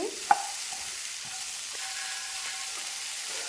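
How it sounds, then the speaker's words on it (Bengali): Cauliflower florets with turmeric powder and a pinch of salt stirred in a hot pan, a faint steady sizzle with a sharp scrape at the start and soft spatula movements, no talking. "এখন একটু নেড়ে মিশিয়ে নেব"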